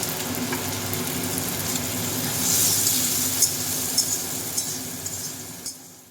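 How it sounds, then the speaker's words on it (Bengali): Onion and tomato fry with salt in a pan, a soft steady sizzle with a few light metallic clinks toward the end. "একটু যখন ভাজা ভাজা হয়ে আসবে টমেটোটাও"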